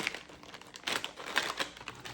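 Tape being pulled and pressed onto the handle of a homemade My Little Pony Easter basket, a close, continuous crinkly rustling with short bursts of peeling and rubbing, no voices.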